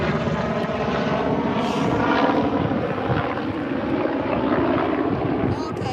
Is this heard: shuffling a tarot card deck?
no